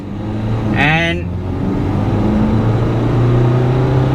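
An MG Gloster SUV engine accelerates at full throttle in manual sport mode, a steady loud drone rising slowly in pitch inside the cabin, with a brief spoken word near the start.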